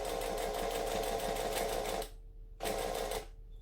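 A sewing machine stitches a heart-shaped eyeglasses case in a fast, buzzing run for about two seconds, stops, then gives one short burst of a few more stitches before falling quiet.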